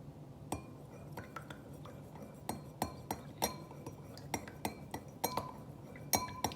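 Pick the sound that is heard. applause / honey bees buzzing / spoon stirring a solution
spoon stirring a solution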